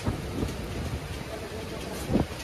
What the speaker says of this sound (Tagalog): walang tigil yung hangin, dire-diretso. Ngayon, may kasabay naman ulan.